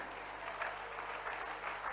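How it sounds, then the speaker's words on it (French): Church congregation applauding during a Sunday worship service, a steady, even wash of many hands clapping together at moderate loudness for the whole stretch. "je voudrais que tu acclames très fort"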